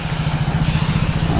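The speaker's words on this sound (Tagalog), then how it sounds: "Motor natin." A motorcycle engine on a road trip in the Philippines runs loud and steady, its low throbbing rumble filling the brief moment without any talk.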